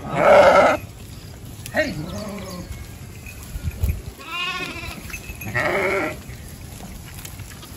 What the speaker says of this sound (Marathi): आपण आता मेंढपाळ कल्ल्या शेळ्या पाहताय।